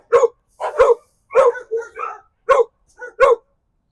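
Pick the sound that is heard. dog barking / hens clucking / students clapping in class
dog barking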